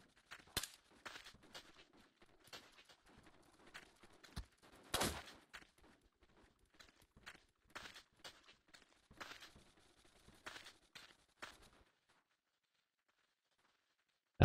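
Gunfire in the online shooter BlockPost, a series of sharp shots and bursts scattered over several seconds with quieter footsteps between, ending in near silence.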